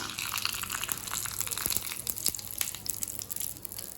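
Mustard seeds, urad dal and curry leaves tempering in hot oil for a ginger chutney, giving a steady broadband sizzle scattered with sharp crackles and pops, fairly quiet and with no talking.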